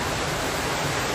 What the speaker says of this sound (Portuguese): o barulho de mais de 3 milhões de litros de água arrastando tudo pela frente